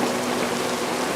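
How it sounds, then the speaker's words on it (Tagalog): Steady rain falling outdoors, a continuous even hiss of drops with no pauses, fairly loud and close, with no voices over it. "Umuulan na."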